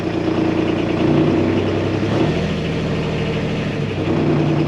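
A car engine, just fired up, idles loudly and close by with a steady low rumble and slight fluctuations in its note throughout.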